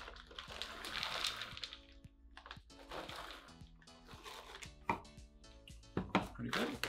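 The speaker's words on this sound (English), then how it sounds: "I'll throw some frozen blueberries" Frozen blueberries tumble into a smoothie container that already holds peanut butter, making a scattered series of hard little clatters and knocks, fairly quiet and close.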